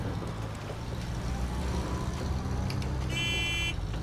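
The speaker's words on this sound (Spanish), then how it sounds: "Yo siempre, siempre toco el claxon" In the SnowRunner off-road truck game, a vehicle horn sounds one steady toot of about half a second near the end, over constant engine drone and rumbling road noise.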